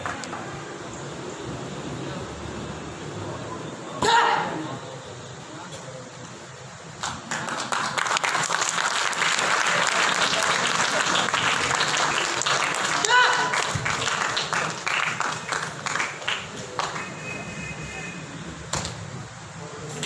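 Audience at a Defense Day celebration honoring Pak Army martyrs breaks into loud, sustained applause after a brief burst, with a speaking voice intermittently over the clapping and crowd noise.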